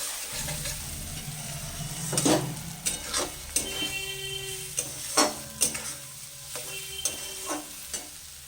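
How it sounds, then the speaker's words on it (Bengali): Hilsa masala with green chillies is stirred in a pan over a gentle sizzle, the spoon making repeated sharp knocks and scrapes every second or so against the metal. "ভালো করে এটাকে একটু নাড়াচাড়া করে নেব"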